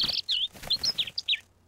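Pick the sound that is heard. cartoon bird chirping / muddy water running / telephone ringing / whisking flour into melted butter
cartoon bird chirping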